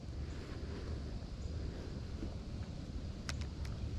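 Overcast, windy day outdoors at a giant culvert while fishing for crappie, with steady wind roaring and buffeting the microphone, a low continuous rumble and a couple of brief faint clicks near the end.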